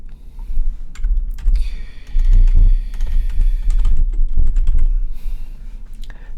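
Typing on a Pula Anvil 114 mechanical keyboard makes a dense, continuous clatter of close, crisp key clicks and thocks, with brief bursts of faster strokes and occasional heavier bottom-outs, alone with no voices.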